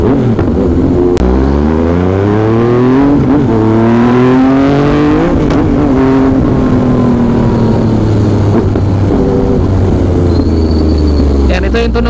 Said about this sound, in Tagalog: Yan, ito yung tunog big bike.